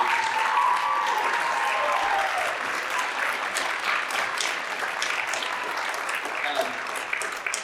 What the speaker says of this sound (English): Can we give them one more big round of applause and thank you?